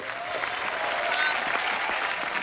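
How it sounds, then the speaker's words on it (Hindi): Loud, sustained applause from a studio audience on a comedy talk show, celebrating a child guest, a dense steady wash of clapping that holds for the whole span. "एक बार बच्चा के लिए जोरदार तालियां"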